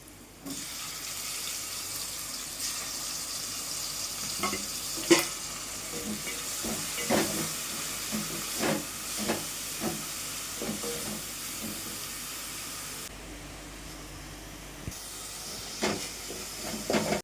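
Crab gravy sizzles in a pan as tomato and onion paste goes in, a steady frying hiss broken by repeated stirring scrapes and knocks, with a brief watery gush partway through.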